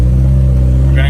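Steady low engine drone from a Volkswagen GLI being driven, holding an even, constant hum throughout with a hint of voice blended in near the end.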